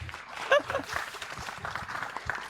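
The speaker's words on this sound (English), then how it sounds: "Everyone, give a round of applause." Scattered, fairly faint applause from an audience at a business challenge event, a soft patter of clapping with a brief louder burst and background voices mixed in.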